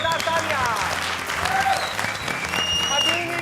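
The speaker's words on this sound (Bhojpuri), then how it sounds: "जोरदार तालियां।" A television comedy show audience applauds, a dense burst of sustained clapping heard close and loud with a few whoops and voices mixed in.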